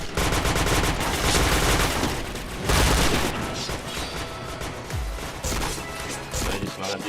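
Dense, rapid automatic gunfire in the shooter game Point Blank, a loud, nearly unbroken rattle of shots with heavier booming hits and impacts layered over it, with little pause throughout.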